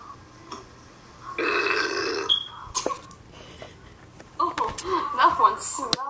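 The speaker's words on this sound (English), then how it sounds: "Did you record yourself burping?" A person burps loudly at close range in a lengthy belch during a friendly burping contest, followed by chuckles and casual talk from those nearby.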